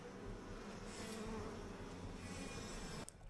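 Steady swarm of bees buzzing in the video game Bioshock, a continuous dense drone lasting about three seconds, then cutting off abruptly near the end.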